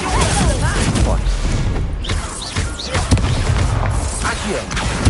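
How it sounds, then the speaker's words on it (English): Spell effects from a Hogwarts video game, with a Stupefy stunning spell among them: a dense run of booming, crashing magical blasts and whooshes over steady game music and effects, loud and close, with a voice talking over part of it. "Stupefy."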